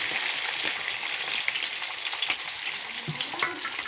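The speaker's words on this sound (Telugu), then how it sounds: "ఇప్పుడు ఆనియన్స్ కట్ చేసి వేద్దాం" Onions sizzle steadily in a hot pan alongside green chillies for an egg curry, a dense bright crackle with scattered pops and a few stirring scrapes, close and continuous with no talk.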